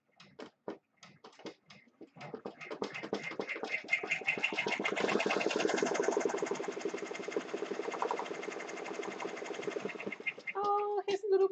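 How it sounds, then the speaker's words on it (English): An embroidery machine stitches at about 700 stitches a minute, giving a close, steady mechanical whirring hum with rapid needle ticking, starting with a few separate clicks and ending in short tonal beeps. "you probably could benefit from slowing the machine down as well"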